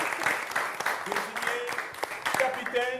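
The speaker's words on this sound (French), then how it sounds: "On l'applaudit encore" Audience applause during a French television game show, scattered claps forming a moderate round mixed with a presenter talking over it and short musical tones.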